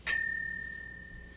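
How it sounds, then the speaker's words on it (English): A single bright bell ding in a live stream strikes sharply and then rings out with a clear sustained tone that slowly fades over about a second, heard alone in a quiet room. "Another bell."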